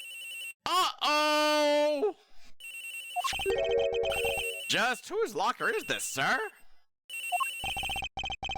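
A mobile phone rings from inside a school locker in a mystery video game, a repeating electronic ringtone in short bursts that alternates with animated character voices talking over and between the rings.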